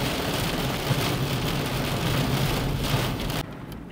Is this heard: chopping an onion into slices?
no